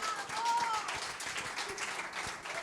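Audience at a stand-up comedy show applauding, a sustained wash of clapping with a few cheers, steady and fairly close throughout.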